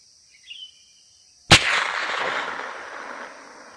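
A single sharp air-gun shot from an AFC high-speed multi-speed air rifle fired downward, a sudden loud crack followed by a couple of seconds of fading hiss and rumble, with a faint brief noise just before.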